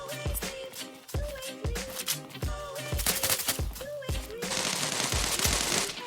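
Gunfire in the Zula Mobile shooter game, rapid repeated bursts of automatic shots in a fast regular rhythm, loud and close with a brief pause, someone talking faintly underneath.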